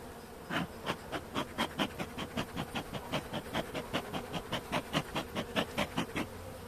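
Anatolian honeybees at a hive during winter emergence, buzzing close by in a quick, even pulsing rhythm of repeated bursts, with no voices.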